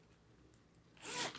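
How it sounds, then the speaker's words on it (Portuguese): A fabric zipper is pushed along its track by a finger while sewing a mask pouch, giving a short, close, soft rasping zip near the end after a brief quiet tick. "o outro lado do zíper"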